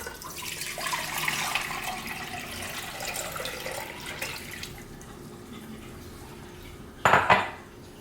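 Six cups of water pour from a measuring cup into a cooking pot, a steady hiss and splash that tapers off, followed by a short clatter of metal as the pot or lid is handled, close up with no talking.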